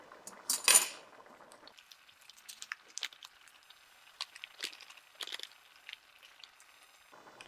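A fork stirring powdered soup mix into a cup of milk, light clinks and taps of metal against the cup coming in irregular bursts, close and fairly quiet, with one louder clatter at the start.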